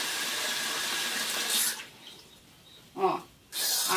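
Cold water runs from a kitchen tap while sweet potato bread is being made, a steady rushing stream that stops briefly, splashes once, then flows again, fairly close and alone.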